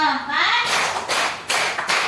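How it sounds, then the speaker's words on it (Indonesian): Children clap hands in unison during a classroom counting clap game, a few sharp group claps in rhythm with an adult voice calling out over them. "Tepuk 1, tepuk 2, tepuk 3, tepuk 4"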